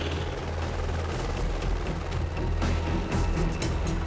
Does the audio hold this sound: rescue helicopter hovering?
yes